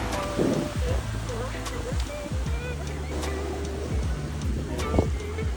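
Strong ocean waves crash and wash on a cloudy California beach in continuous loud surf, with wind rumble and brief voices in the background.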